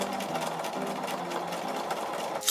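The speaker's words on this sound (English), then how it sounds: "Before attaching the collar, I stay-stitch the neckline to stop the curve stretching out." A sewing machine stay-stitches a garment neckline before a collar goes on, running in a steady fast whirring chatter close by, with a brief clunk at the end.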